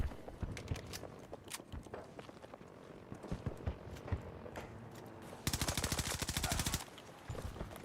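Gunfire in the video game Battlefield 2042, with scattered single shots and footsteps, then a loud sustained automatic burst lasting over a second, followed by more sporadic shots.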